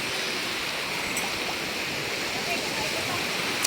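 The incoming tide rises along a shoreline as a continuous, fairly loud rushing wash of water close by, with no clear breaks.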